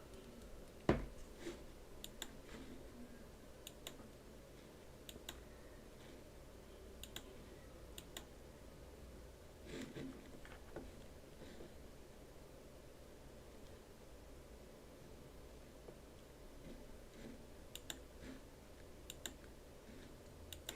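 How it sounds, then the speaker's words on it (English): Computer keyboard typing and mouse clicks from someone working at a desk, sparse light taps scattered through a steady faint hiss, with a sharper click now and then and no talking. "If y'all hear clicking, it's because I'm over here."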